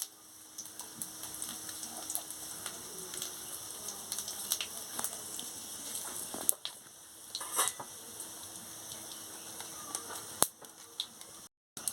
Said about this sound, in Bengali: তেল গরম হয়ে গেছে, আমি শুকনো লঙ্কার ফোড়নটা দিয়ে দিচ্ছি।